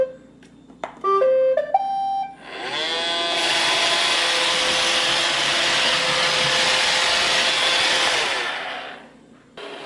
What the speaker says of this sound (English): And let's listen to the Roomba.